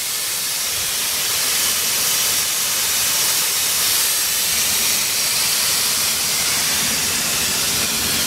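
A grooming blower pushes air across a matted rabbit's coat, giving a loud, steady rushing hiss that runs unbroken throughout with no talking.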